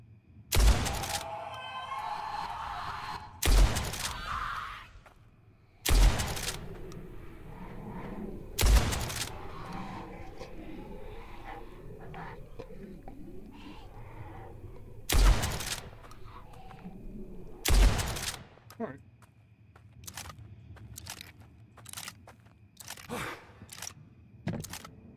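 Gunshots from the video game Blood West, fired at moving enemies near a burnt-down house: roughly six loud, sharp reports spaced a few seconds apart over a low ambient hum, followed by a string of lighter, quicker clicks and thuds.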